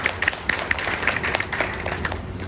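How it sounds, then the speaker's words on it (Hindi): An audience at a talk about the Baba Saheb Ambedkar Association claps in welcome, a moderate, steady applause of many hands with sharp individual claps, heard at some distance. "इसके लिए उनका जोरदार तालियों के साथ स्वागत।"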